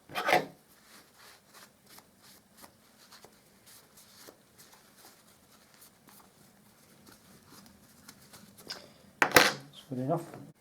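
Brass house numbers sanded dry with P320 wet and dry sandpaper: faint repeated rasping strokes, steady and close, framed by louder handling clatters at the start and near the end.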